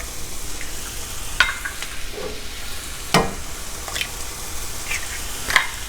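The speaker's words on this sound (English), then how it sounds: "I can go ahead and add the eggs and stir them in. I'm just going to scramble them in." Eggs being stirred and scrambled into limp frying cabbage in a pan: a soft, steady sizzle with occasional sharp utensil scrapes and taps, close and moderately quiet, no voices.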